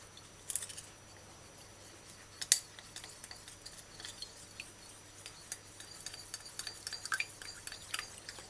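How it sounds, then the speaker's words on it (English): Chicken and broccoli with oyster sauce are stirred in a pan: soft, quiet scrapes and light clinks repeat irregularly over a faint sizzle, with no talking. "once you add the ingredients, you stir it in properly"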